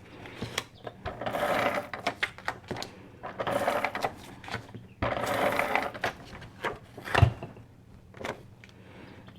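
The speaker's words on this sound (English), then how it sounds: "I'm just going to glue these down with my ATG tape roller." An ATG tape roller lays adhesive onto card, giving close, mechanical ratcheting whirs in several short bursts separated by quiet gaps, with a sharp knock near the end.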